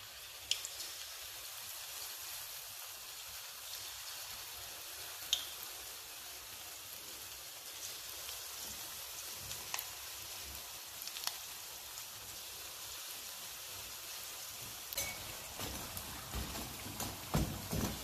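Steady sizzling and crackling of artichokes deep frying in hot oil, close and continuous, with occasional sharp pops.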